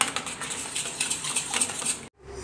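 A spoon scrapes and clinks in a pan as carrot burfi mixture with malai is stirred, quick repeated metallic taps and scrapes that stop abruptly near the end.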